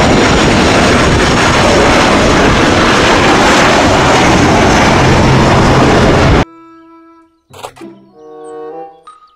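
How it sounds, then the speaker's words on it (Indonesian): A toy airplane's loud, constant roaring engine noise runs for about six seconds, then cuts off abruptly, leaving a few short electronic tones and clicks. "Pesawat terbang."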